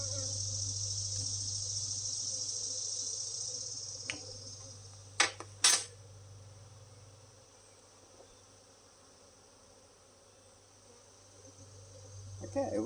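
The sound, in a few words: honey bees buzzing on a hive frame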